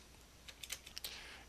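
A computer keyboard clicks softly in a short burst of several keystrokes while editing code in an IDE, quiet and close, with no talking.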